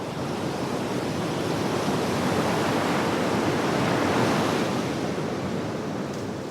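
Ocean waves wash continuously onto a Polynesian shore near old phosphate-loading pontoons in French Polynesia, a broad, steady roar of surf with no voices.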